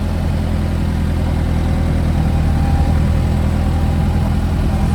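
A Ford 5610 tractor with its PTO engaged runs its engine at a steady, loud, close drone for the whole stretch, a continuous low rumble with little change in pitch. No one speaks over it.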